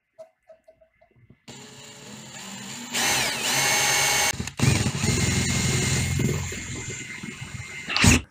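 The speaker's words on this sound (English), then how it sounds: "And we'll start with a little small drill bit." A small drill bit bores into a push button: a few faint clicks, then a close, whining power drill that runs in loud bursts with brief pauses and a final short stop.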